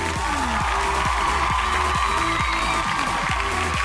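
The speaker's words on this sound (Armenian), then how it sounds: "ծափահարենք։" Audience applause at a children's fairy-tale film show, a dense, steady clapping that fills the whole stretch at close range. A repeating falling whistle-like tone runs through it.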